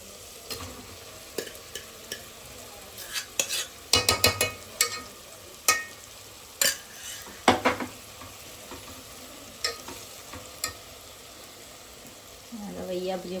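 Boiled vegetables are added to an undhiyu pan and stirred, giving scattered clattering scrapes and knocks over a faint sizzle. The stirring comes in irregular bursts, and a voice speaks briefly near the end.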